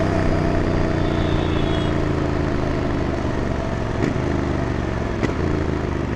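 A GT 650 motorcycle ridden on a Bangalore road: steady, close engine drone with a smooth, even hum and two brief sharp clicks partway through, no voices.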